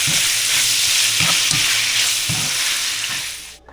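Pancit noodles fry in a pan with a steady, close, loud sizzle. Occasional low knocks of stirring break through, and the sizzle fades away at the very end.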